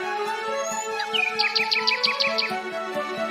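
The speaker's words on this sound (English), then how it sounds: "getting ready to the tunes of chirping birds" Small birds chirp in quick repeated bursts over a steady tonal hum and background ambience at a residential housing complex, the calls clear and moderately close.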